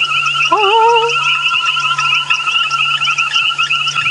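Frogs call steadily against a constant background trill, with a rising whistled note that sounds like a person imitating a banded rubber frog call at sunset.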